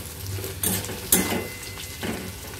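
Soybean chunks frying in hot oil in a pan, with a steady low sizzle and three distinct bursts of scraping as a spoon stirs them through.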